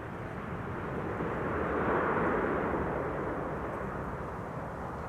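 An Airbus A321neo in retro Transavia livery arrives at Amsterdam Schiphol, its broad engine roar swelling to a peak and then easing off, steady and fairly distant.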